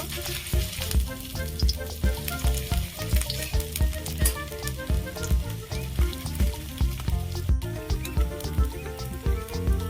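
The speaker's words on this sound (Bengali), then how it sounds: "তেলের মধ্যে আমি আদা কুচি দিয়ে দেবো আদাটা ভালো করে ভেজে নেব" Chopped ginger sizzles vigorously in hot oil, a loud, busy crackle close by with rapid popping throughout and no voices.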